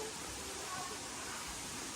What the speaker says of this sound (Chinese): 现在呢，我们到瀑布了